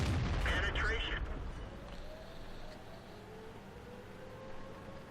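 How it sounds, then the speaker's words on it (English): Tank cannon fire from the T25/2 in World of Tanks on the Highway map, one heavy boom at the start that fades into low engine rumble and battle ambience, with a voice talking over it. "You'll notice I'm shooting for the front of his tank."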